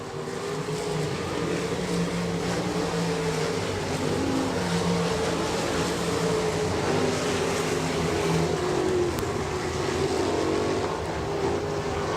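B-Modified B/305 sprint cars racing on the dirt oval at I-90 Speedway, a steady loud engine roar droning throughout, several motors blending into one continuous wash from a distance.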